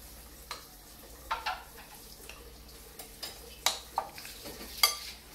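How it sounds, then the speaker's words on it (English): A spoon stirs lobster roll filling with celery, lime juice and cracked pepper in a bowl, giving soft, wet scraping strokes with a few sharper clicks against the bowl. "And I'm going to start stirring."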